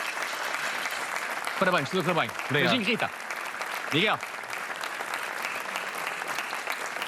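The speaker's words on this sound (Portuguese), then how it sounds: "um aplauso para o Miguel e um aplauso também para ti" Studio audience applause for a contestant on the Portuguese TV quiz show Joker, a dense sustained clapping throughout, while voices speak over it in the middle.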